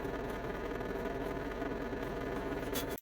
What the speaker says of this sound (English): so I'm going to use a 1/16 drill bit.